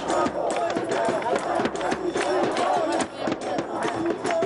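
A large jubilant crowd gathered at the Shaheed Minar cheers and shouts in celebration, a dense, busy roar of many voices with overlapping yells throughout.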